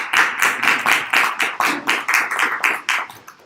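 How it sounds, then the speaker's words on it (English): A small group of people clapping for a debate panel, a short burst of distinct, fairly close hand claps that thins out and stops after a few seconds. "we give a round of applause to our distinguished panel"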